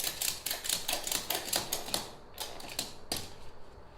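An E-track ratchet strap securing an ATV, pulled tight with a rapid run of sharp ratcheting clicks that slows into a few spaced clicks, close and clear with no talk.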